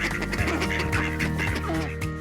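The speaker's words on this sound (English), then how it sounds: "Look! Ducks! Hello, ducks!" Ducks quacking in a large park, a rhythmic series of nasal calls repeating about every half second, close and fairly loud with a tonal, almost animated quality.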